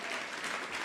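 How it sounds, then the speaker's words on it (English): Clapping from a crowd at a celebration gathering, a steady, fairly quiet patter of many hands with no voices on top. "Come and give her a round of applause."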